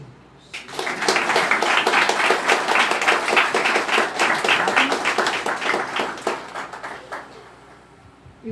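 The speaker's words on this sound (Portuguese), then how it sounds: "Vamos aplaudir a Deus." A congregation applauds during a church service: dense, steady crowd clapping that starts abruptly, holds strong for about seven seconds, then fades out.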